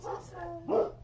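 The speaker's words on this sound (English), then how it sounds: "Darn dogs." A dog barking outdoors near a farm with a miniature Jersey cow, one short yelping bark followed by a brief higher yip, moderately faint against a low background hum.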